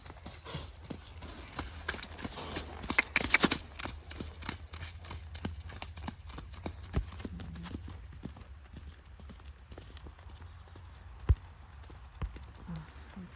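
A horse, ridden out alone on a slippery hack, clip-clops steadily at a walk with irregular hoof strikes, fairly close, over a low rumble of outdoor background.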